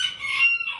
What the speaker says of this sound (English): Here's the rooster and his hens.